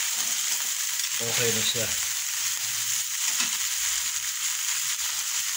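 Sweet potato tops fry in a pan with a steady, close sizzle throughout, and a few quieter stirring clatters early on; a voice speaks briefly over the cooking.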